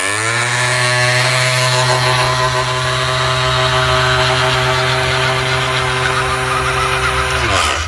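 An RC car motor rigged as an energy generator spins with a loud, steady, whining hum that climbs briefly at the start, holds, and then cuts off abruptly at the end.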